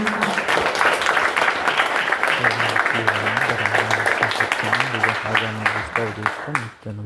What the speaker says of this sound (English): one more round of applause for Ian.